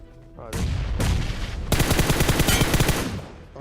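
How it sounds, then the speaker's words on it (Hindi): Rapid bursts of automatic gunfire in the battle-royale mobile game BGMI, loud and close, with a short volley followed by a longer sustained spray of shots. "मैंने अंधा फायर दिया और गोलियां बंदे के सारे हेड पे कनेक्ट हो गई"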